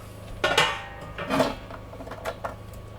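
Ground beef tallow dumped into a stock pot on low heat, giving two soft, wet clattering thumps as the fatty mince hits the metal, followed by a few lighter knocks and scrapes, close and moderately loud.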